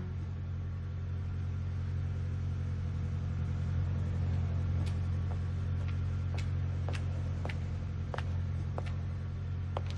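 A car engine in a dubbed street-racing action film gives a loud, steady low rumble that holds for the whole stretch, with faint clicks and no voices over it.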